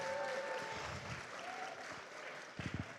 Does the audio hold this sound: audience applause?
yes